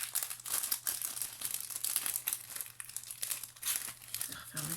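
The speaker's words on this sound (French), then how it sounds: "Je vais refermer le sachet." A plastic sachet holding small cut pieces is crinkled and rustled steadily as it is folded shut, a close, continuous crackling with brief tearing-like bursts and a faint low hum underneath.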